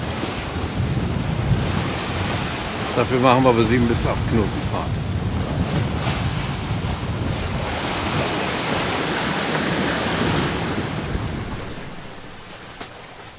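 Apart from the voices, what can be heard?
sea waves around a sailing boat with wind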